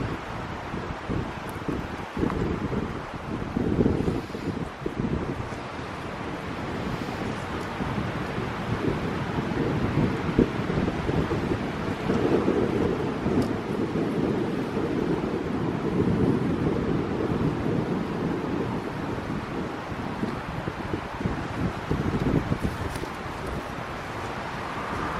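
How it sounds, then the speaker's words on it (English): Strong gusts buffet a camera microphone outdoors at a cemetery, a loud continuous roaring rumble that swells and eases over the whole stretch, with no voice heard. "Incredibly windy."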